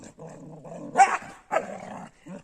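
A dog growls low and close, with a couple of louder snarling bursts breaking through the rumble.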